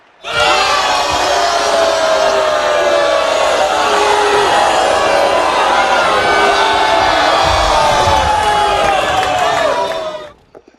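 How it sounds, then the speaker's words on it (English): A large stadium crowd in a Blood Bowl video game roars and shouts continuously at full volume, a dense wall of voices that fades out abruptly at the end. "Crowd, of course, not happy at that after all the hard work they put into beating them up."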